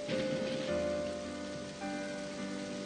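Rain falls in the Final Fantasy 13 game, a constant hiss of drops on surfaces running beneath sustained musical tones at a steady level.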